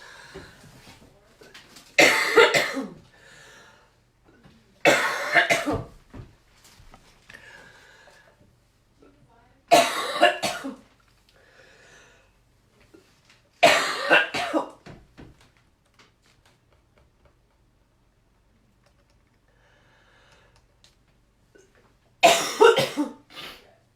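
A woman coughs repeatedly in a series of close, harsh bursts spread across the stretch, some paired together, with long quiet gaps between them.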